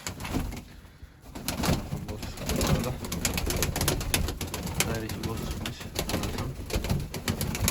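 Pigeons in a coop in Mardin, including young birds and tumbler pigeons, coo and stir near the microphone, with scattered wing flaps and movement, while someone talks over them.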